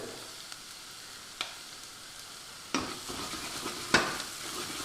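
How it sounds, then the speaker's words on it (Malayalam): Masala spices for a beef curry sauté in a pan over a low flame, giving a soft, steady sizzle broken by a few sharp scrapes and clinks of stirring. "തീ നല്ലോണം കുറച്ച് വെച്ചിട്ട് ഈ മസാലയൊക്കെ ഒന്ന് സോട്ട് ചെയ്തെടുക്കാം എല്ലാം കൂടി"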